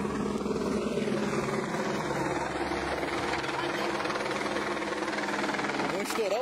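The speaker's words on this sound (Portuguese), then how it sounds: "polícia no balão de helicóptero" A police helicopter flies overhead with a steady rotor thump and engine roar over a noisy outdoor scene. It stays loud and continuous throughout.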